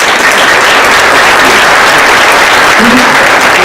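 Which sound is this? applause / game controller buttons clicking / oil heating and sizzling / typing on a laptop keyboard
applause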